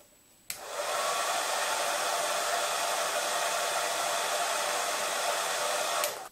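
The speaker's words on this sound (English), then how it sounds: "take your ping pong ball and rest it on the top, and then turn the hairdryer on" A hair dryer clicks on and blows with a steady loud rushing whoosh for several seconds, then clicks off.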